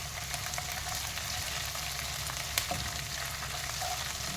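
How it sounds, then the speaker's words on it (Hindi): Onions frying in a pan with ginger and garlic for Hyderabadi tala hua gosht, a steady close sizzle with soft crackles and an occasional faint stir or clink, and no talking. "अब देखिए ये प्याज इस तरह से हो रही है।"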